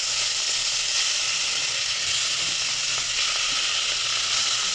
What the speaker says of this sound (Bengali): মাছগুলো হালকা ভেজে নেবো